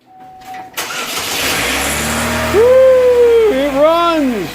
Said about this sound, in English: Now we'll go ahead and start the car and see if it runs right.